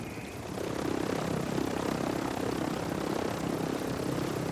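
A helicopter in the Warzone battle game drones steadily with a dense, thumping rotor roar, loud and close, with no talk over it.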